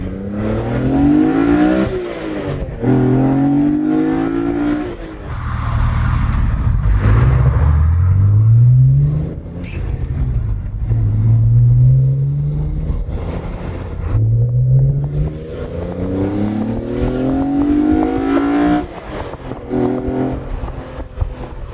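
A BMW E46 M3 engine revs hard several times in a row, each pull climbing sharply before dropping back, loud and close with no talking.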